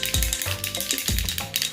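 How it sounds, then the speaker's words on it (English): An aerosol can of spray foundation is shaken hard, giving rhythmic rattling strokes in quick bursts, close and loud, with no talking. "shake up the foundation"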